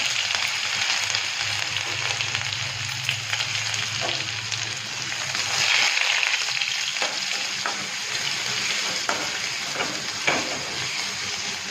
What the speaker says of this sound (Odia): ଏଥିରେ ଜିରା ସୋରିଷ ମିଶେଇକି ଫୁଟଣ କରିବା